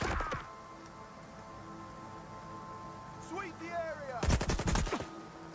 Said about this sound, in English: Don't mind me shooting the military here.